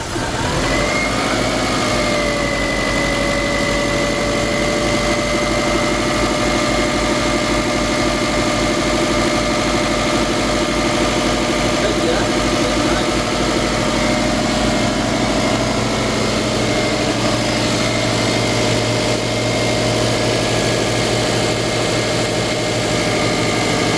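A Subaru Forester 2.5L engine idles steadily after start-up with its intake manifold and fuel lines just replaced, a continuous close low rumble with a faint whine on top and no talking.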